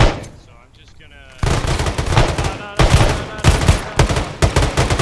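Gunfire in the military game ArmA during a tactical combat casualty care training exercise: after a quieter opening with a voice, loud bursts of rapid shots and heavier reports follow in clusters, close and harsh.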